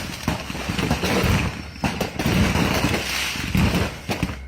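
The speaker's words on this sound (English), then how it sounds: "a U-Haul full of firecrackers became lit" Dense, irregular crackling pops and bangs from a U-Haul truck full of firecrackers going off in rapid succession at night, loud and continuous with a few sharper bursts.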